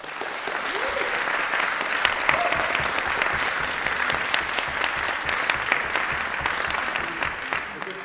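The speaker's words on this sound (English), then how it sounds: "I think we have to give the speakers another round of applause for that." An audience at a debate competition final gives the speakers a steady round of applause, a continuous dense patter of many hands lasting several seconds at an even, moderate level.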